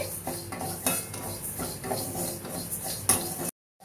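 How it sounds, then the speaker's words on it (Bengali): Sona moong dal dry roasting in a pan, stirred continuously with a utensil that scrapes and clinks against the metal in an uneven close rhythm, with no talking. "প্রথমে আমি সোনামুগ ডালটা ভালো করে ভেজে নেব এইভাবে।"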